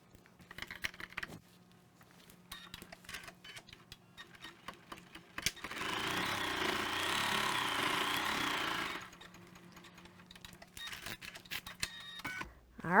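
An embroidery machine stitching the top seam of an eye mask, rapid mechanical ticking and clicking bursts, then a sustained whirring run of several seconds before the ticking returns, close by and with no voices.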